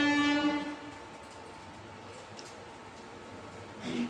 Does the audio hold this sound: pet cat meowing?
no